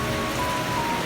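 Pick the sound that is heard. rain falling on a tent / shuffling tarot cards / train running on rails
rain falling on a tent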